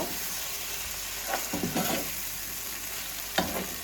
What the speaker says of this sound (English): I'm going to add the remaining scallions in and combine everything together.